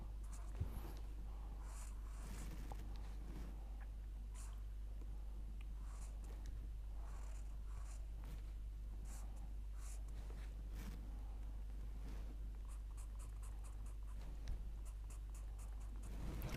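Pen or chalk strokes scratching on paper during a chemistry lecture, faint, intermittent scribbles of varying length over a steady low electrical hum, with no speech.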